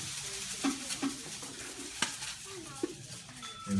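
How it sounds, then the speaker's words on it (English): A hand shaker stirred in a classroom music activity, giving short rattling swishes with a few louder taps, close and moderately loud. "you're going to stir your shaker just like this"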